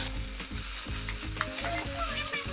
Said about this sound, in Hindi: अब हम इसमें बॉईल किए हुए आलू डालेंगे जो कि हमने बिल्कुल मैश कर लिए हैं।